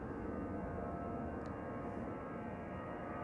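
An Airbus A320 airliner rolls for departure at Amsterdam Schiphol, a steady, broad engine roar held at an even level throughout, with no voices.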